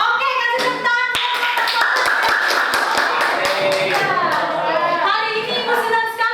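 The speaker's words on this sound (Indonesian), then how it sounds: "Oke, kasih tepuk tangan." Classroom applause during a school science lesson on litmus paper, a burst of sharp clapping from a group of pupils with distinct slaps and a teacher's voice briefly heard over it.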